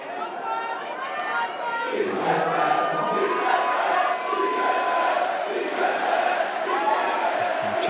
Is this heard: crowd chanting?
yes